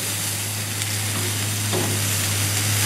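Sausage sizzles on a very hot grill, a steady bright crackling hiss that is fairly faint and continuous, with no talking.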